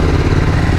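A motorcycle engine on a bike ridden on Michelin Road 6 tyres runs in a short, loud, steady burst of low rumbling idle.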